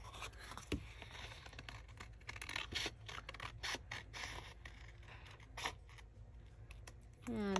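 Scissors trim paper for a scrapbooking page, producing a quiet run of short crisp snips and scratchy rubs at close range, with a louder rustle near the end.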